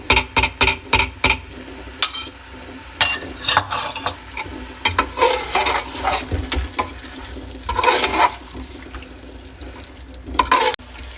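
Chicken drumsticks being stirred with yogurt in a pot for biryani, with repeated scraping strokes of a spoon and a low sizzle close by, no talking.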